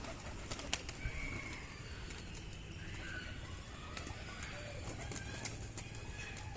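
Pigeons pecking at scattered corn and wheat, a steady busy texture of light pecks and shuffling with occasional coos, close by under a constant background hum.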